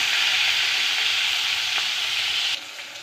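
Turmeric-rubbed rohu fish sizzles vigorously in hot oil, a loud steady crackle that drops abruptly to a quieter hiss near the end as the frying eases.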